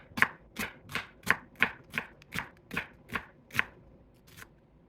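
An old onion is chopped with a knife on a board, about ten crisp, evenly spaced cuts close by, then a final fainter one.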